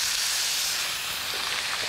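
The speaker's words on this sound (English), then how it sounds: "Right away you start to hear that really, really good sizzle, and that's what you want." A loud, steady hiss and crackle of Arctic char skin searing in hot oil, continuous and close.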